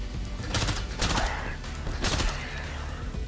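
Upgraded gun in the shooter STRAFE firing in burst mode: three sharp, loud volleys of rapid shots spaced about a second apart, each a tight cluster of cracks over a steady low game-ambience rumble.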